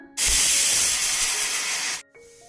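A pressure cooker cooking green gram vents a loud, steady burst of hissing steam for about two seconds, then cuts off abruptly, leaving a quieter tonal hum.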